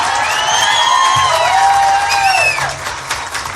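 Crowd at a public hearing on special retirement for community health agents, cheering with loud whoops and shouted voices over a bed of clapping, close and lively throughout.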